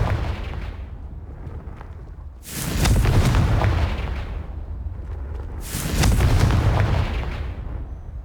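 A Confringo fire spell from the Hogwarts Legacy video game explodes twice, each a loud, close, rumbling boom with a crackling tail. A low ambient rumble runs between the blasts, and no one speaks.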